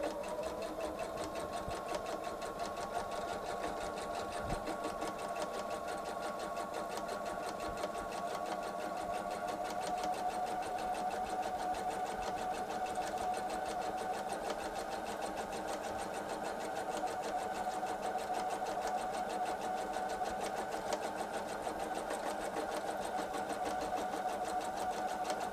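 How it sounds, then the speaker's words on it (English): A sewing machine runs steadily, stitching a quilted travel tote, its motor a continuous even whir with a rapid needle chatter, moderately close, carrying on uninterrupted for the whole stretch without talk. "still using my foot as a guide, I will do my second set of stitching"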